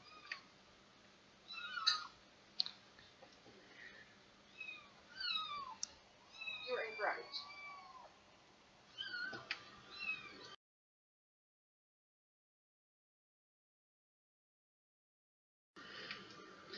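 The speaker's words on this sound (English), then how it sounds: "Now I do apologize for the meowing kittens in the background." Young house kittens meowing in the background, a string of thin high mews and squeaks scattered over several seconds, fairly faint. A stretch of dead silence follows, then more soft mewing near the end.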